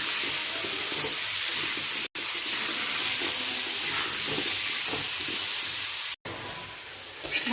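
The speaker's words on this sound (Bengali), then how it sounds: "আলুটাকে লাল করে ভেজে নেব" Potatoes fry in hot oil with turmeric and salt, a loud, steady sizzling hiss close up that runs continuously, broken only by two brief cuts.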